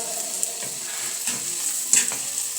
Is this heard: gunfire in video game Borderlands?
no